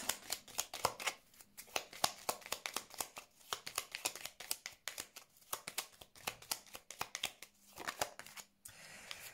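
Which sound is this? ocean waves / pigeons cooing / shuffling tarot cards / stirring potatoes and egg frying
shuffling tarot cards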